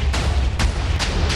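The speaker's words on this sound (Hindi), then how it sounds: "सब कुछ ब्लास्ट हो गया, कितना बड़ा गड्ढा कर दिया आप" TNT blows up in Minecraft, a loud run of about four booming blasts in quick succession, each with a heavy rumbling tail that merges into continuous roaring noise.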